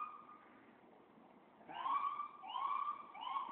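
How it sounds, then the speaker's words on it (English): A police car siren wails in the distance outdoors during a street event with a fire truck, rising and falling in faint, sweeping cycles that swell after a quiet start. "that's a police car"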